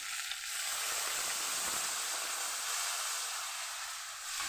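Water poured into a pan of frying rohu fish head curry with potatoes and kohlrabi, setting off a loud, steady sizzle and hiss that holds for several seconds and eases slightly at the end, with no talking.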